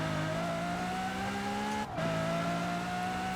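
A car engine in Forza Horizon 4 holds a steady, loud high-revving drone at full throttle, with a brief dip near the middle as it shifts gear, then keeps pulling hard.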